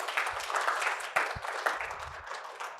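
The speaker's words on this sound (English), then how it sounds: "Please give him a huge round of applause" An audience at a public speaking workshop breaks into applause, a busy patter of claps at moderate volume with a few sharper accents, holding steady for a few seconds.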